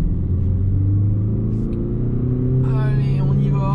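A Peugeot 2008 BlueHDi 100 diesel pulls uphill in a steady, loud engine drone with rising pitch, heard from inside the car, with a voice talking over it partway through.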